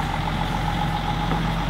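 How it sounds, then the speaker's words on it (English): Big truck engine running behind the scene, a steady low rumble with a droning mid-pitched hum, moderately loud and constant, with no voices. "as Big Truck back there fires up"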